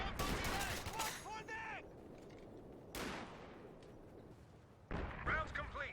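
Artillery barrage in Company of Heroes 2, heard as loud bursts of shell impacts and gunfire in three clusters separated by a quieter stretch, with a battle rumble continuing beneath.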